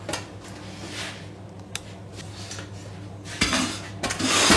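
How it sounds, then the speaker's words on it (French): Small metal saucepan being handled to set up a bain-marie, producing several close metallic clanks and scrapes of cookware at a moderate level, with no talking. "Petite casserole comme ça."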